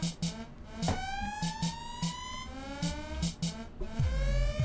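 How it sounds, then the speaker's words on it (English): A siren-like rising wail opens a hip-hop song, with sliding tones sweeping upward over a steady rhythmic beat and deep 808-style bass thumps entering near the end. "So it starts off with this siren that's so off-putting"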